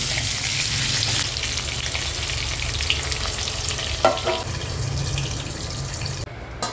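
Brinjals frying in oil in a pan, a steady close sizzle with stirring running throughout, a brief louder scrape midway and a clatter near the end.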